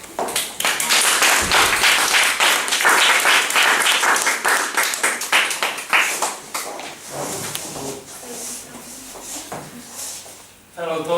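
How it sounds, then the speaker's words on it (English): Audience at a Toastmasters club meeting gives a speaker a big round of applause, loud dense clapping that thins out toward the end. "Let's give a big round of applause to Paul Ardeleanu"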